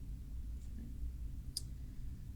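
A single sharp computer mouse click lands briefly in the middle of an otherwise quiet stretch with a low background hum.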